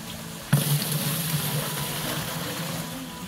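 Water poured into a homemade live bait tank with a pump, a sudden splash followed by a steady gurgling rush of flowing water, close and continuous.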